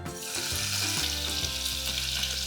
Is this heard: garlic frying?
yes